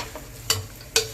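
Vegetable pulao stirred in a pan over medium-high heat, with a soft sizzle beneath two or three brief scraping strokes of a spoon against the pan, close and clear with no talking.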